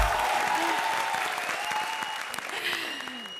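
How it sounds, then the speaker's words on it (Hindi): A studio audience at a comedy show claps steadily for a few seconds, dense and moderately loud, with faint voices mixed in. "बजाओ ताली इसी बात पे।"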